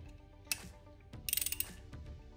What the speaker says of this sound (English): It's easier to use a socket, a deep well socket like this, than to use the little wrench.